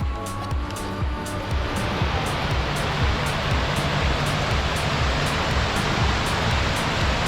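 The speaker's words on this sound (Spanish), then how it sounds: "Ya vemos el agua, pero ese es el río." Río Casaño rushing past in a mountain canal, a loud, steady broadband roar of flowing water that fills the whole clip without a break.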